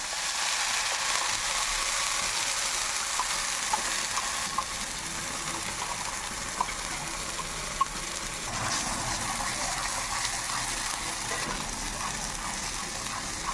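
Ground spice paste fries in hot oil for a Bengali duck egg curry, giving a steady close sizzle with a few small clinks of stirring throughout.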